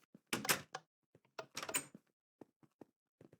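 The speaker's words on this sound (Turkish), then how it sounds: "Evet kapıyı açalım" A wooden door opens in the video game Minecraft, heard as a few short, sharp clunks and creaks in quick bursts, followed by several faint, brief ticks and taps spaced apart.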